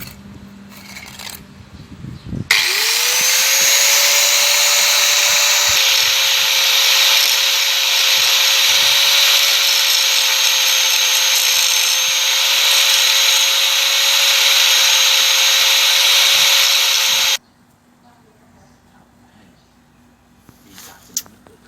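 An angle grinder smooths raised weld beads on a driveshaft balance weight from a Mazda or Ford, a loud, steady abrasive whine that runs for about fifteen seconds before stopping abruptly.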